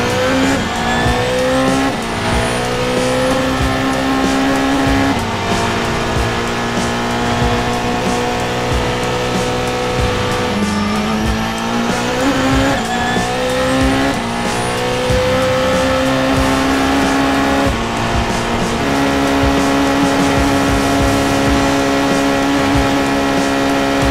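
A race car drives a record lap at the Nürburgring with a loud, sustained engine howl that climbs in pitch and drops sharply at several gear shifts, with faint tyre squeal and no speech.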